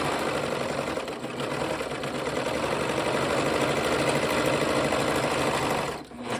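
An overlocker serger sewing machine runs steadily at close range, a continuous whirring motor hum with rapid stitching vibration, easing off briefly near the end.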